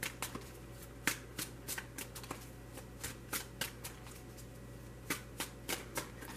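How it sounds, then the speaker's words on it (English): Tarot cards being shuffled by hand: a series of crisp, separate riffles and flicks at an uneven pace, close and clear against a quiet room with a faint steady hum. "I have pre-shuffled those four decks, so I'm only going to shuffle until I'm told to stop, which will not be long."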